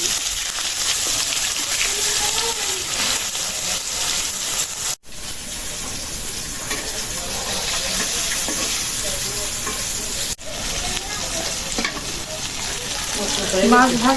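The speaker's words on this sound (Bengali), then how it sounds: "মাছ ভাজা" River fish fry in a hot pan with a strong, continuous sizzle and crackle, broken by brief stirring noises. It stays close and loud, with no clear speech.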